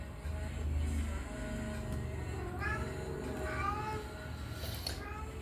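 A house cat lets out a few needy meows, rising and falling calls partway through, set against a steady indoor hum and low background noise.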